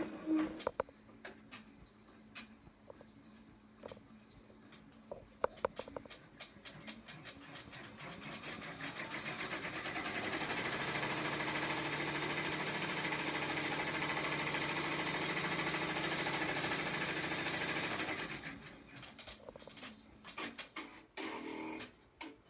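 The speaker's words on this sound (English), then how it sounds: "I'm actually going to start on step 2 and just let it stitch my material." An embroidery machine stitches material held in the hoop for an in-the-hoop Advent calendar ornament, a steady mechanical whir that starts up, runs continuously for about eight seconds, then stops, with light clicks and handling noise around it.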